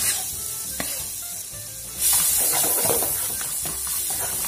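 Onion and garlic dropped into hot oil, a soft hiss that suddenly bursts into a loud, dense sizzle about halfway through and keeps crackling steadily up close, with no talking.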